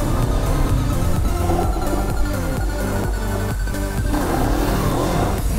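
Motorcycle engine pulling hard while being ridden, a loud continuous roar with rising and falling pitch sweeps as it accelerates through gears, no voices.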